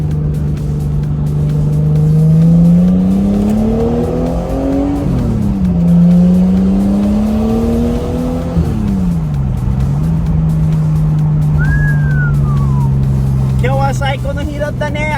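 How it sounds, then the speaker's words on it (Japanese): Nissan Skyline with an RB straight-six engine cruising onto a highway, its steady drone rising and falling through gear changes as it accelerates, loud and close from inside the car, with a brief squeal near the end. "今高速乗るからちょっと RB サウンド聞きましょう。"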